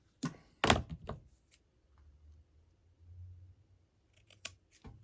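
Scissors snip through lace and paper while a lace junk journal cover is being finished, a few sharp close cuts early on, then quiet handling and light taps.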